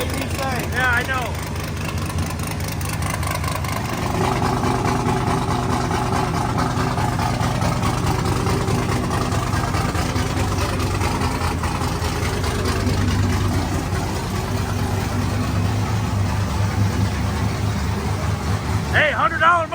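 A cammed LS V8 in a 4x4 Cadillac idles with a loud, choppy, loping rumble close by for the whole stretch, while people talk over it.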